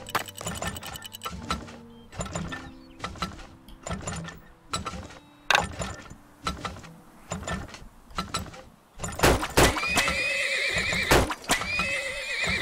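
Horses in the video game Turmoil give repeated whinnies and neighs in quick succession, mixed with clip-clop hooves and mechanical ratcheting, loud and close, alone without talk.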